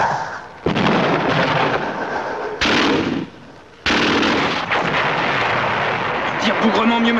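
Gunfire and artillery from a 1950s war film: loud, dense rolling blasts and crackling shots fill the scene almost continuously, with brief dips between heavy bursts and faint voices under the din.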